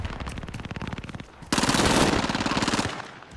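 Rapid, loud machine gun fire in Call of Duty: a fast rhythmic burst, a brief lull, then a denser sustained volley of automatic shots close up.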